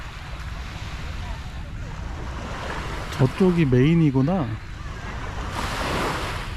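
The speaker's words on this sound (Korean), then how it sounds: "진정한 바닷가다" Ocean waves wash in steadily at a seaside shore in Thailand, a constant rushing wash with wind buffeting the microphone, and someone speaks briefly in the middle.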